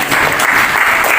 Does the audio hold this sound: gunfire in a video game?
no